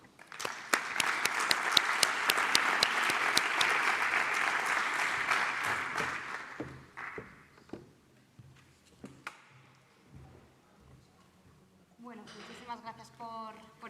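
Audience applause welcoming a speaker onto the stage at a Basque Country cybersecurity conference, steady clapping for about seven seconds before it thins into scattered claps; a voice starts talking at the end.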